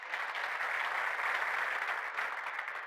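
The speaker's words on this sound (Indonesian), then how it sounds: "Beri tepuk tangan." Steady audience applause at a church sermon, a dense continuous patter of many hands at even loudness for about three seconds, with no voices over it.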